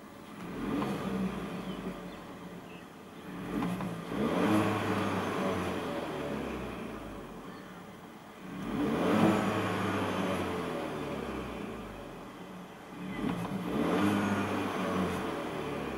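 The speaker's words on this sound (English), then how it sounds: "so let's go ahead and see how she revs." A car engine revs up three times, each rise swelling to a loud, sustained roar before easing back to idle, with the same steady spacing between pulls and no voices over it.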